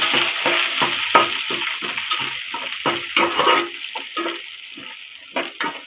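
Onions sizzle steadily in hot oil while a spoon scrapes and stirs them in the pan with repeated rhythmic strokes, close and loud, while cooking Tamil fish curry.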